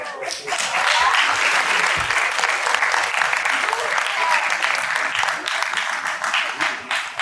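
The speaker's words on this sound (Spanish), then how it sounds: "nuevamente un fuerte voto de aplausos" Sustained applause from an audience at a talk on forest fires in Bolivia, a dense steady clatter of clapping that fills the whole stretch without a break.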